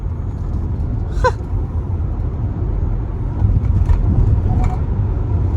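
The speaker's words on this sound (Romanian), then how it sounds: "Și acum înfige-te în accelerație" A 220-horsepower Kia EV6 electric car accelerating hard, heard from inside as a steady loud low rumble of road and tyre noise with a faint electric whine, no voices.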